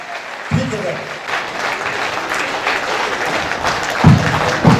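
An audience at an all-India Hindi poetry gathering (kavi sammelan) applauds, a sustained wash of clapping over a public-address setting, with a voice speaking through amplification near the start and again near the end.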